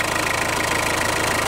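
Diesel engine idling close by, a steady low rumbling chug with a fast even knocking pulse and constant loudness, alone without talk.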